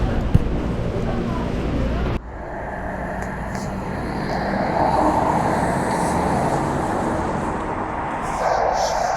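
Interior of a moving subway train: steady low rumble and rolling hum with a broad midrange whoosh, loud and continuous after an abrupt change at about two seconds, as if entering or starting; occasional voices under the noise.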